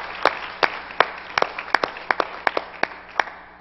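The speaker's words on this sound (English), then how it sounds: "I think we ought to give you and the Lord a hand clap of appreciation" A church congregation claps in appreciation, a sparse group of distinct hand claps at an uneven rhythm, close and clear against a quiet room.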